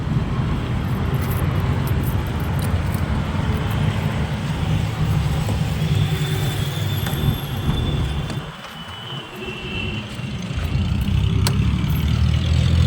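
A loaded goods truck's diesel engine idles steadily with a broad, constant low rumble, briefly dipping before settling back to a continuous drone.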